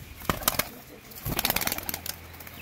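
Released tagged pigeons take off with bursts of close wing flapping, a couple of sharp claps early, then a rapid fluttering run of wingbeats before the sound fades.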